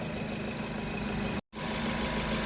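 A Nissan Cube engine idles steadily at close range, a continuous low rumble with a faint mechanical knock, interrupted by a short dropout partway through before resuming.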